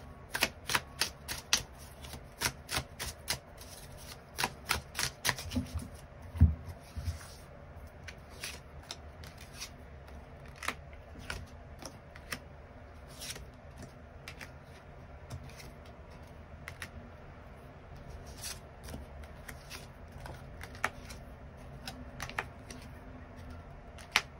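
Tarot cards are shuffled and drawn in a quiet room, a long run of rapid crisp flicks and soft riffles at close range, thinning into scattered taps and slides.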